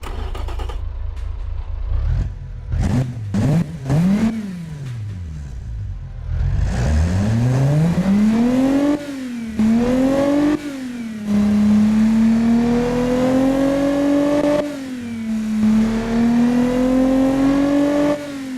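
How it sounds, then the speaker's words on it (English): A tuned car engine with an aftermarket exhaust blips a few times, then revs hard and holds high, its deep throaty exhaust note rising and dipping. Loud and close, no voices. "So let's hear the new exhaust system."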